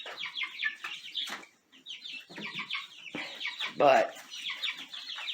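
Chicks in a brooder shed chirp and cheep in quick overlapping bursts close by, with a person briefly speaking over them.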